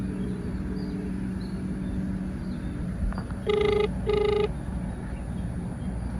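A phone call rings out unanswered, two short electronic ring bursts heard through the handset over a steady background hum, with no one picking up.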